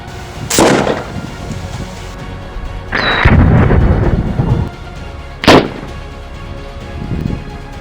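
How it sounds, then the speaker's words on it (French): An air-pressurised plastic bottle firecracker, hit by an air rifle shot, bursts with sharp, loud bangs. Several cracks and booms come close together over a short stretch, with no talking. "la bouteille a bien explosé"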